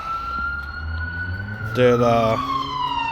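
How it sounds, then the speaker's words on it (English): An ambulance siren wails steadily nearby, pitch slowly falling as it passes, with a brief horn blast in the middle. "Actually, there's an ambulance going by"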